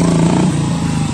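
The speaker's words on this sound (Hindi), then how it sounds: "अब मारने वाले हैं व्हीली" A KTM Duke motorcycle on a public road during a wheelie stunt, its engine droning loudly with a steady, buzzing note that dips briefly in pitch, close by.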